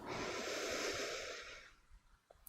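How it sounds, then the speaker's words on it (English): A person taking a big inhale through the nose during a yoga class, a long, close, airy breath that swells and then fades into quiet stillness. "Big inhale through your nose."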